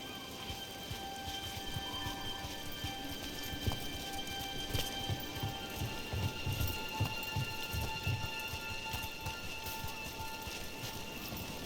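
Steady rain falls in the video game Dragon Age: The Veilguard, a continuous wet hiss of drops spattering surfaces at moderate level with no speech, a few louder patters mixed in.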